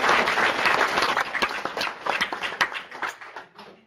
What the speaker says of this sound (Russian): Огромные аплодисменты.